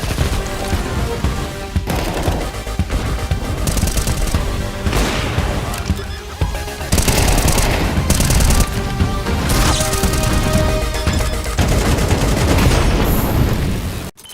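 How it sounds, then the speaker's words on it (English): Dense, loud rapid gunfire and explosive bursts from the video game Counter-Strike 2, sustained throughout with heavy booms and crashes layered together. "Counter-Strike is known for its visceral and satisfying gunplay."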